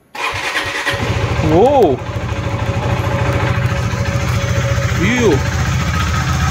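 A KTM 390 Adventure motorcycle, left standing for 90 days, cranks and fires into a steady, close idle that runs throughout, with someone talking over it and a couple of short tonal whoops rising above the engine.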